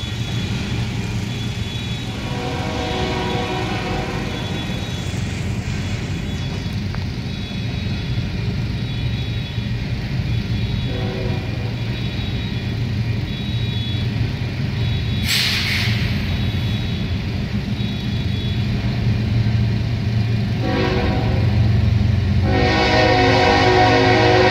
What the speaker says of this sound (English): Two BNSF container trains meeting up here at the crossing underneath Pacific Coast Highway overpass.